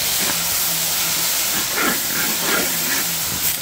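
Onions, cinnamon, cloves and cardamom saute in sesame oil for a turkey kurma, making a loud, continuous hissing sizzle close up with some brief scraping stirs.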